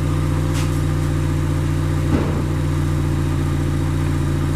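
A Honda CR-V engine from the 2007–2012 generation idles steadily with a low, even hum at its exhaust, close and loud, with a brief bump partway through.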